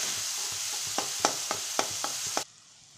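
Chopped vegetables frying in a pan for pav bhaji, a steady close sizzle with rhythmic stirring scrapes and taps, then the hiss drops away sharply near the end.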